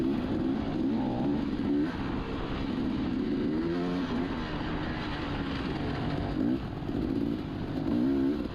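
Dirt bike engine at a hare scramble race, a steady close drone with short bursts of revving that rise and fall over continuous broadband engine and trail noise.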